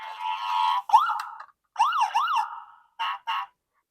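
Ambulance siren sound effect, a clear wailing tone in several separate bursts with rising and falling sweeps and short gaps, heard alone and fairly close.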